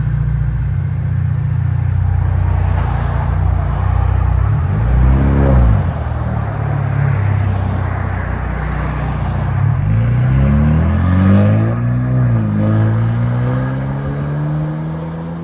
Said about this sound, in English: '25 Ford Bronco, the Carven R series.